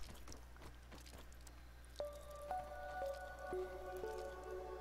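Water droplets in the backyard survival game Grounded: soft wet squishy drips, several scattered taps early, then clearer ringing plinks with sustained tones building over a quiet low hum.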